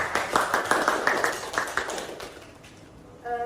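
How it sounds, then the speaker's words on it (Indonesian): Short burst of classroom applause from students at the close of a microteaching lesson, rapid claps fading over a few seconds, followed by a faint tonal beep. "Tepuk tangan untuk kita semua."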